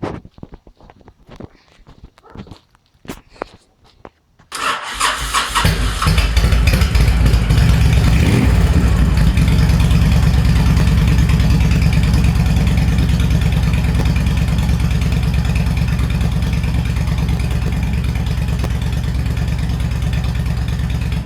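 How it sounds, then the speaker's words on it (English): A Honda VTX 1300R motorcycle engine fires up after a few quiet clicks and footsteps, then settles into a loud, steady, rumbling idle that runs on close by without a break. "we turn the motorcycle on for a little bit"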